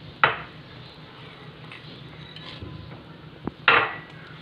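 Colored vermicelli being stirred into a pot of simmering milk, with a few sharp utensil knocks against the pot, one near the start and a cluster toward the end, over a faint background hiss.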